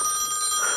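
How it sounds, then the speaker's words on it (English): A telephone rings with a bright, steady electronic bell tone, close and clear with no voices over it. "Wait, is that the phone?"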